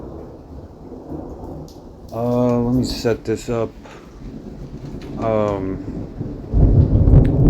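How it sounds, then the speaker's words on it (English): Thunder from a thunderstorm rumbles low and heavy near the end, over a steady hiss of rain. Someone talks over the storm noise before the rumble swells. "there's the thunder."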